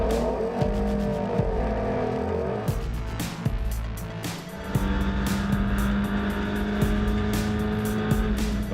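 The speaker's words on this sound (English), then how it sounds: "on a drying track, the cars piled into Copse Corner" Race cars roar into Copse Corner at Rockingham on a drying track, engines droning and shifting as several cars pass close together, with tire noise and clattering bursts over the steady engine buzz.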